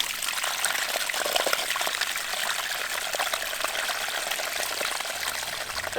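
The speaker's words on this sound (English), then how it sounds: "There's still pressure, but there's a lot of water losing around it." Water leaking from an old pipe that still holds pressure, a continuous hissing, trickling spray that gushes steadily at close range without pause.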